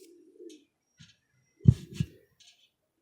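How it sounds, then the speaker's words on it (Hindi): A young highflyer pigeon gives a couple of low, soft coos close by, with brief quiet rustles and gaps between them, no talking. "देखने को नहीं मिलते ऐसे कबूतर।"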